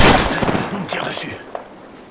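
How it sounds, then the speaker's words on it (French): Bursts of gunfire in the battle-royale video game Apex Legends, sharp and close at the start, then fading with scattered shots. Talk runs over it. "On me tire dessus."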